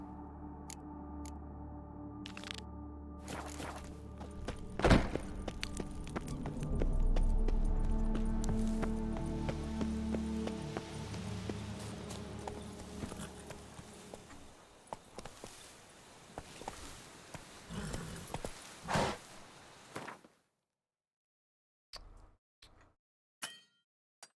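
Roach the horse from Witcher 3 gallops in rapid, rhythmic hoofbeats, loud and close, mixed with game sounds, then fading into a few scattered clicks after a sudden cut to near silence.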